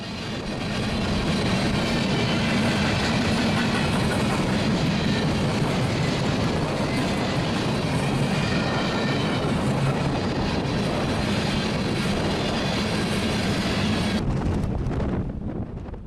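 A manifest freight train rolls past in Northern Illinois, a loud continuous rumble and roar heavily buffeted by wind on the microphone, cutting off abruptly near the end.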